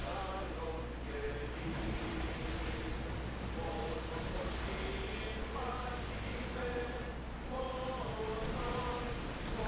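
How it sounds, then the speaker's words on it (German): Rolling ocean surf in Assassin's Creed Odyssey, a steady broad wash of waves with low droning rumble underneath and faint game music tones drifting over it throughout. "Also ich finde es physikalisch sehr gut mit den Wellen."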